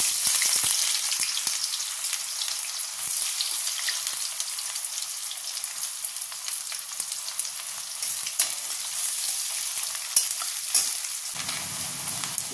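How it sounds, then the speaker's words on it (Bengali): Onions hitting hot oil in a kadai, cooking for rajma masala, give a steady bright sizzle and crackle that runs continuously and close, with a few louder pops and a stirring scrape near the end. "তেলটা গরমও হয়ে গেছে। এবার দেবো পেঁয়াজ।"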